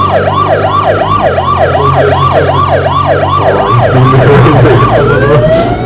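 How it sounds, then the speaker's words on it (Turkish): A police car siren in the video game H1Z1 wails in a steady, rapid up-and-down sweep, loud and close, over a low engine rumble before trailing off into noise. "Evet polis arabası"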